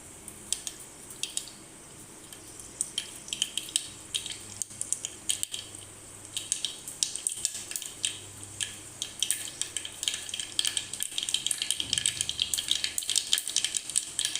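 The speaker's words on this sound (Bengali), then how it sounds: "দু চামচ সর্ষে দিলাম কালো সর্ষে দিলাম দুটো শুকনো লঙ্কা এইভাবে ফাটিয়ে নিলাম" Black mustard seeds and two dried red chillies splutter in hot oil on a low flame, a close, dense crackle of sharp pops that grows busier and louder toward the end, with no talk.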